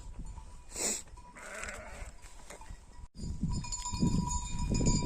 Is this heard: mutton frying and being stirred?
no